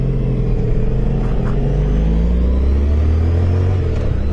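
A Ford Mustang GT pulls away from nearby with a loud, deep engine rumble. Its pitch climbs steadily as it accelerates, and it stays heavy and continuous throughout.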